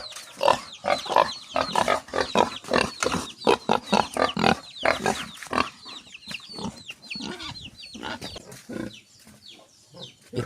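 Pigs grunting and oinking in rapid, overlapping bursts, close and fairly loud, with higher squeals mixed in and a busy farmyard background.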